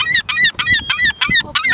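Seagulls squawking loudly and close by at breakfast, a rapid run of harsh, honking calls repeating back to back with barely a pause.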